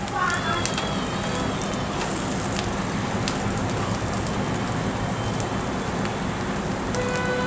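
Paneer sautéing in a pan over a very low flame for a malai paneer dish, a steady soft sizzle and crackle running continuously throughout at an even level, with a voice speaking faintly over it.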